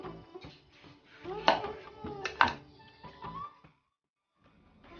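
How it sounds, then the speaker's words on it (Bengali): A knife slicing through a soft, spongy homemade bun roti, with a few crisp cutting and tapping sounds close by, mixed with someone speaking, then near silence at the end. "এখন একটা কেটে দেখিয়ে দিচ্ছি।"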